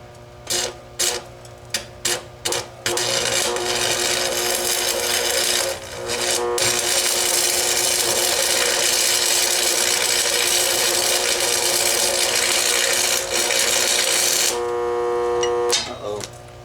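Tack welding a metal part on a wagon build modeled on the John Wayne War Wagon: a few short crackling bursts, then a long, loud, steady buzzing weld arc close by that runs for most of the clip before cutting off.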